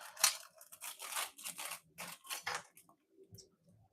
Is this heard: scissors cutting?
yes